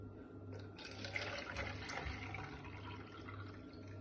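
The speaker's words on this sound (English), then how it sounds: "Now I'll fill a bottle with the water up to the very top." Water pours into a plastic bottle set in a bowl, a faint steady trickling fill with a rising gurgle, quiet and close, with a low hum underneath.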